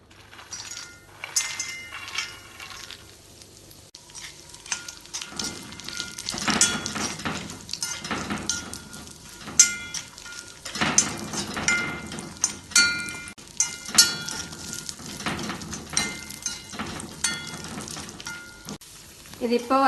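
Almonds, cashews and pistachios roast in hot ghee in a pan, a soft steady sizzle with frequent clinks and scrapes of a spoon against the metal, growing busier as the nuts are stirred.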